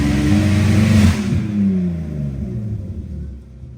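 BMW E46 car engine revs hard then eases off, a loud close roar sweeping up and settling into a falling, rumbling idle.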